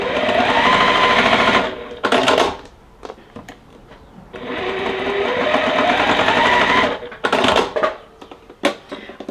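Sewing machine stitching quilt block pieces for a flower block, whirring loudly and close in two long runs, with short stop-start bursts and handling clicks between them.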